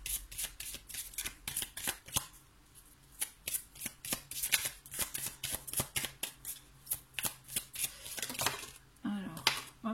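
Tarot cards shuffled by hand in quick, crisp riffling bursts, close and continuous, with light papery slaps between them and no talk.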